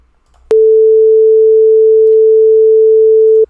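A pure sine tone generated with Python NumPy starts abruptly and holds one steady pitch for about three seconds, loud and clean, then cuts off, alone without talk.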